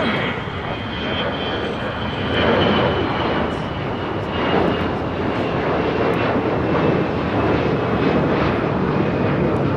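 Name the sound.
Delta Airlines A321 taking off at LAX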